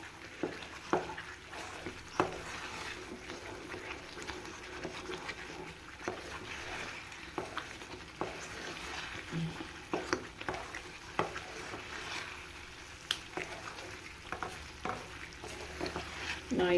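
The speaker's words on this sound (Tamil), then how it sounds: "நான் இன்றைக்கி இந்த தொதல் கிண்டி போடுறேன்." Thick thothal halwa is stirred in a pan with a steady rhythm of quiet scraping strokes and soft clicks roughly every second, faint and close, with no talking.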